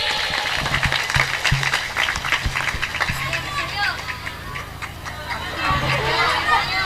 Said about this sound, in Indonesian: Tepuk tangan dulu untuk Ramadhani.